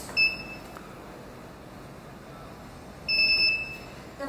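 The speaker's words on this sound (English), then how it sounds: "Press the alarm for about 4 seconds until hearing the beeps." A battery capacity detector gives two short, high electronic beeps, one near the start and a longer one about three seconds later, over a faint steady hiss.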